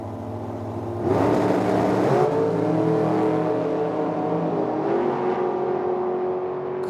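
A dragster launches down the right lane of a drag strip at Medicine Hat, Alberta, with a sudden loud, sustained engine roar that holds and slowly fades as it pulls away.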